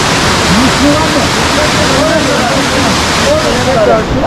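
Waterfall at Ava Ore pouring steadily as a broad, loud rush of water, with voices talking over the constant roar.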